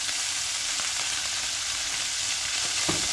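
Kielbasa searing in a pan as the pieces are flipped, a strong continuous hiss of frying with occasional light clicks and a soft bump near the end, close and unbroken, no talking.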